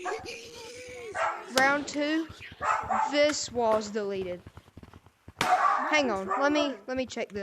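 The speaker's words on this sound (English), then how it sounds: "Sorry about the dogs." Dogs barking and yipping indoors in short bursts, close and fairly loud, interleaved with a person talking during a game.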